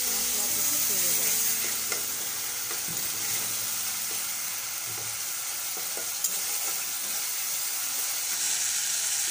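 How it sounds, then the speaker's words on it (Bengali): Spice paste frying in a pan for a vegetarian chhanar dalna, with steady loud sizzling and stirring scrapes throughout and no talk. "এবার মশলাটা ভালো করে কষে নিতে হবে"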